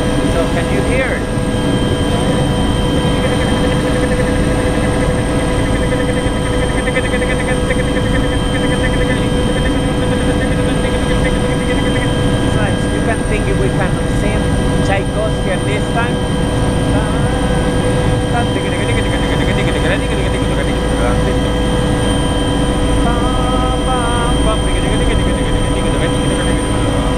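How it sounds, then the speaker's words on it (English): Loud, constant engine and rotor roar fills the cabin without letup, a dense droning hum with steady whine tones throughout. "we are in the helicopter. So can you hear it?"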